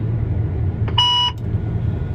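A single short electronic beep from a Pro 1200 guidance control button sounds clearly over the low, steady engine rumble of a 260 series combine.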